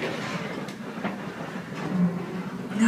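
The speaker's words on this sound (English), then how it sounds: "I don't like the sounds of this bridge." Safari vehicle rattling across a bridge in Africa, a continuous rumbling clatter with faint clicks and creaks, steady and moderately loud throughout.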